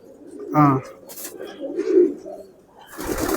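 Homer pigeons in a loft give deep, close coos in a few short bursts, with rustling and other bird noise around them and a voice talking between the calls.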